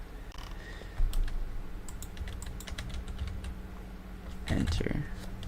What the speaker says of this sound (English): You know what, I'm typing it in chat.